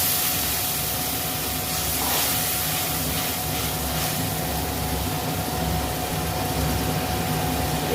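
A spice-paste water of ground cumin, coriander, ginger and green chilli hits a hot pan with a loud, continuous, even hiss like steam, steady for several seconds without voices.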